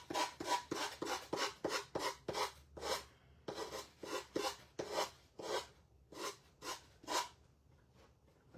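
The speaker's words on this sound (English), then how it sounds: "Let's see if I can get this off with my gator sander." A handheld gator sander scrapes rice paper off a wooden sign in a series of short, rhythmic, raspy strokes, about twenty rough rubbing bursts with brief pauses between, close and fairly quiet.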